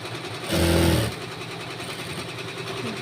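A sewing machine stitches a school uniform in one quick burst: a short, buzzing mechanical whir lasting about half a second, close by, then only a low background hum.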